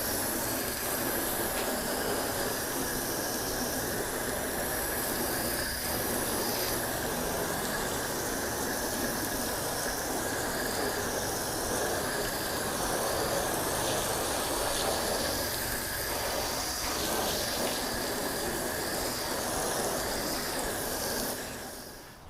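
Water from a hose or pressure washer sprays steadily onto a car painted with touchless sealant, rinsing it off in a continuous hissing wash that runs unbroken and fairly loud, with no talking.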